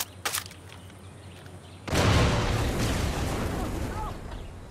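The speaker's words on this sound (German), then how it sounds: "Vorsicht, da explodiert was." An explosion goes off in the shooter game Far Cry 6, a sudden heavy boom after a couple of small pops, followed by a long rumbling, crackling tail that slowly fades.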